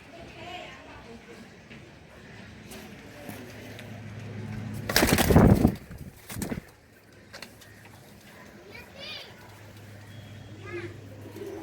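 Giribaz and Chila pigeons cooing in a loft, soft repeated coos spread across the scene, with a loud burst of flapping or clatter partway through and someone talking throughout.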